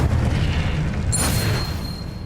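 A fire spell cast in Hogwarts Legacy bursts with a loud booming whoosh, a single sustained blast over steady game ambience.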